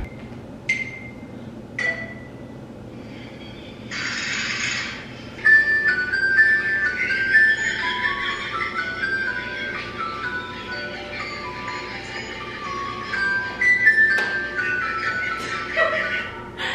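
A wind-up music box plays a thin, tinkling melody while being cranked by hand, with scattered clicks and brief noises around it, moderately close.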